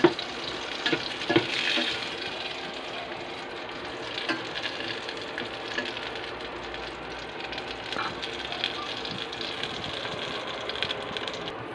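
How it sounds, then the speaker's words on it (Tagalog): Kikiam fish balls fry in a pan with a steady, close sizzle and crackle, broken by occasional scrapes and stirs, with no talking. "Nagluluto na tayo ng kikiam."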